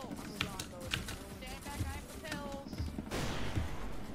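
Explosions and gunfire burst out in the video game SCP: Secret Laboratory, with several sharp bangs amid busy game noise while a voice talks over the action.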